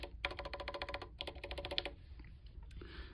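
Rapid close-up typing on a linear mechanical keyboard switch with milky housing, milky top and black bottom, a brisk run of crisp, bright clicky keystrokes in two bursts, then a quieter pause with a few soft taps.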